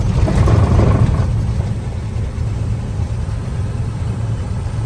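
Truck engine with revs dropping while coasting down a gentle hill: a loud low rumble that eases off after the first second, then settles into a steady, deep drone with mechanical hum.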